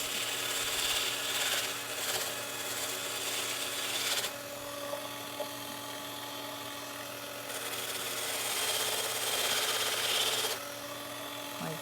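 Resin Christmas piece being sanded by hand with sandpaper, a close rasping rub in long bursts separated by quieter pauses, over a low steady background hum.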